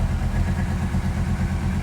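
A car engine idles at around 2,000 RPM while warming up, a steady low, throbbing rumble with a fast even pulse that holds constant and close throughout.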